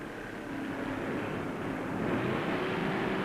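1958 NASCAR Grand National stock cars, including a Pontiac and a Mercury, race at full throttle down the beach on the Daytona Beach road course, a steady droning engine roar that swells slightly, heard at a distance.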